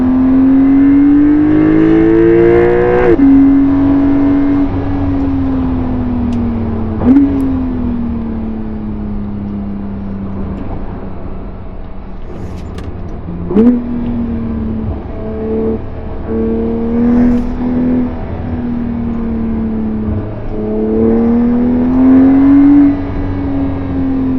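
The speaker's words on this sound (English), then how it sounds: "Open up the steering wheel, step on the throttle, and down the throttle again." A Porsche on the Hockenheimring track drones steadily through several acceleration and lift-off cycles, its engine note dipping and climbing again with a few sharp transient knocks, heard loud and close throughout.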